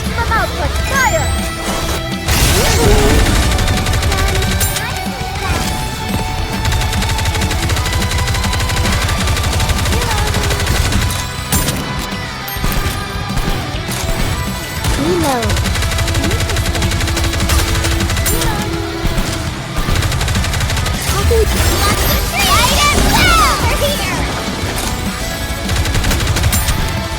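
Rapid automatic gunfire rattles continuously in the Nikke shooting game, dense bursts and crashing impacts layered over a game voice and music throughout.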